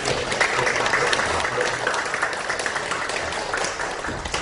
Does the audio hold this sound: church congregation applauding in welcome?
yes